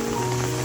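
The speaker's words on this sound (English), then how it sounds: "It's raining here in Singapore today" Rain falling in Singapore, a steady, dense hiss of drops on surfaces, continuous and fairly loud with no voices.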